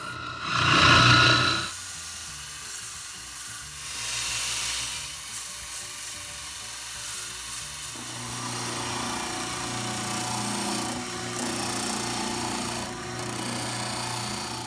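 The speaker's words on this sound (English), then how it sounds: "Now we'll clean this up on the spindle sander." A spindle sander smooths the head of a custom wooden mallet made of walnut, maple and oak, a whirring motor with rising and falling grinding as the wood is pressed against it, including a loud burst early on.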